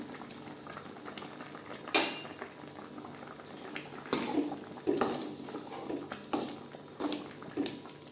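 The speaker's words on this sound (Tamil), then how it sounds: "குழம்பு நல்லா கொதிக்கட்டுங்க குழம்பு நல்லா கொதிச்சிருச்சுங்க" Radish kulambu simmering in a pot in a home kitchen, with soft bubbling under clinking utensil taps and scrapes against the vessel, several sharper clanks standing out, no talk.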